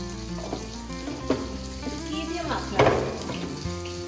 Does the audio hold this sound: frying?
yes